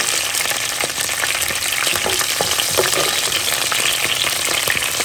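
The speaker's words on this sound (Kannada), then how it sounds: "ಒಂದು ಬ್ಯಾಡಿಗೆ ಮೆಣಸನ್ನ ಹಾಕ್ಕೊಳ್ತಾ ಇದ್ದೀನಿ ಸ್ವಲ್ಪ ಕರಿಬೇವಿನ ಸೊಪ್ಪು ಹಸಿಮೆಣಸಿನಕಾಯಿ" Byadagi chilies, curry leaves and green chilies frying in hot oil, a loud dense crackling sizzle that runs continuously with scattered spatters and stirring scrapes.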